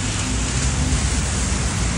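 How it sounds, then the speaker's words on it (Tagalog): Heavy rain pours steadily over a flooded residential street, a dense, even hiss with no breaks and no voices. "Kasalukuyang pa umuulan sa ngayon"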